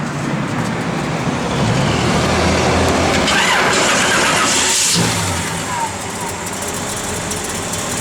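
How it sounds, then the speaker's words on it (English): A 1970 Chevrolet Chevelle SS with a mild cam, running on pump gas, fires up and settles into a steady idle. The engine rumble holds throughout, with the start and a brief rev standing out midway. "Go ahead, Jordy, you can fire it up"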